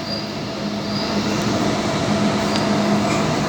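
A Sydney commuter train rolls along the rails in a steady, loud interior rumble, with faint hum and a few light clicks from the wheels and carriage throughout, with no voices.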